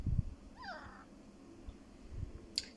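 A cat gives a short, wavering meow, fairly faint against low background rumble, followed by a brief high chirp.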